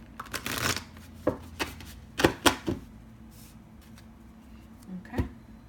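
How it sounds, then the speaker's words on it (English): A deck of oracle cards is shuffled up close, giving a few quick riffling flutters and sharp taps spaced irregularly, with quiet gaps between them. "Just one more shuffle."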